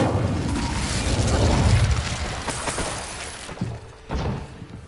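A fiery blast from the Incendio spell in Hogwarts Legacy, a loud roaring burst that rumbles for a few seconds, then fades with a couple of smaller thumps.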